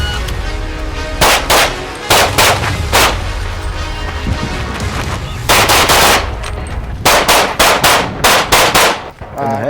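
Gunfire from a competition shooting run rings out loud and close in quick clusters of sharp shots separated by short pauses, with bursts of several rapid rounds.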